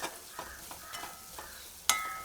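A spoon stirs egg roast curry seasoned with black pepper in a hot pan, making soft repeated scraping strokes over a faint sizzle, with one sharper metallic clink near the end.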